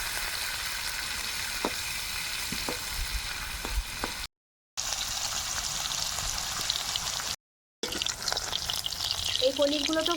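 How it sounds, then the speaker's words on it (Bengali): Paneer pieces frying in oil left over from frying potatoes, giving a steady broadband sizzle with crackling pops throughout, close and fairly loud, broken by two brief gaps. "আর এই আলু ভাজার তেলেই এবার পনিরগুলো আমি ভেজে নেব।"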